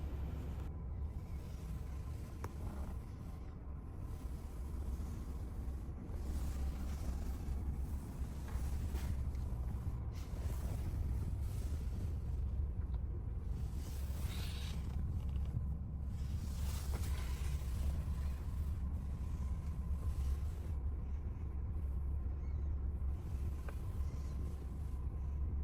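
A 2018 Ford Transit 350 HD box truck's 3.7 liter V6 gasoline engine idles steadily with a low, constant rumble throughout, heard from a short distance with some outdoor background noise.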